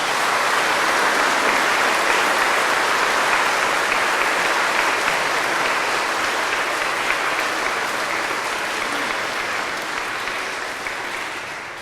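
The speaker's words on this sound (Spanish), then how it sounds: "Un fuerte aplauso para nuestros hermanos." A church congregation gives a strong round of applause for a couple renewing their vows, with loud, sustained, dense clapping from many hands that slowly tapers toward the end.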